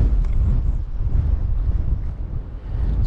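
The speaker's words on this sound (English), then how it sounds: "This wind's just so terrible today, it's hard to do anything, especially cast a fly rod." Strong wind buffets the microphone on the Outer Banks coast at Cape Hatteras during flounder fly fishing, a continuous loud low roar with gusting swells and no voices.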